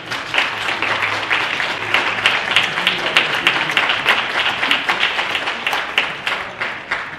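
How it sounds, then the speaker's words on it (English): Council meeting audience applauding sanitation workers, a steady patter of many hands clapping at moderate volume, tapering slightly toward the end. "we do want to give our sanitation workers a good nod, hand clap, all that good stuff"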